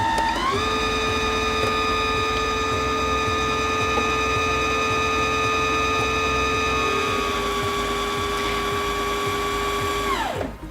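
A Singer Featherweight C240 electric sewing machine winding a bobbin, a steady motor whine with a rapid mechanical ticking underneath that speeds up at the start, runs evenly for about ten seconds, then winds down.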